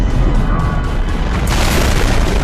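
A loud, sustained boom from an explosion in an action film, a dense low rumble filling the whole stretch with a brighter burst of debris near the end.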